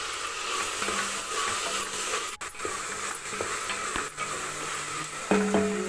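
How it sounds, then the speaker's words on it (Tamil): Onions sautéing in a pan with curry leaves, a steady soft sizzle and hiss with occasional stirring scrapes and clinks, close and continuous, no talking. "நெக்ஸ்ட்டு வெங்காயம் போட்டு நல்லா வதக்கிக்கணும்ப்பா"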